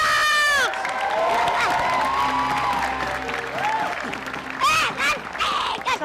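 A studio crowd at an Indonesian comedy show claps, cheers and shouts, with loud voices and laughter rising over the steady applause.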